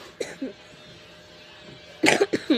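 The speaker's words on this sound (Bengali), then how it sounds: "একটু ঠান্ডা লাগছে তো তাই কাশি চলে আসলো" A person with a cold coughs: two small throat sounds at first, then a burst of three or four harsh, loud coughs close to the microphone.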